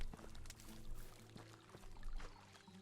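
Drinking water in the Medieval Dynasty video game gives a soft, continuous pouring and gulping trickle at low volume, steady across the short stretch.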